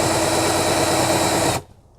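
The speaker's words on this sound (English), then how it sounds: "Put the drill in reverse, okay?" A power drill running in reverse against a plastic tote gives a loud, steady whirring grind that cuts off abruptly near the end, leaving quiet.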